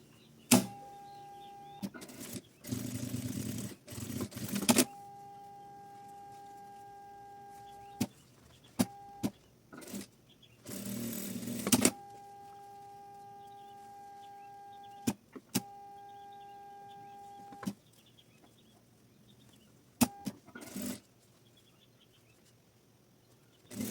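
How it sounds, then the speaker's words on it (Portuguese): Sewing machine topstitching the lining of a fabric card wallet, several short motor-driven bursts of stitching separated by quiet pauses, close and clear with a faint steady electrical hum underneath. "a gente rebate a costura por aqui para prender o nosso forro"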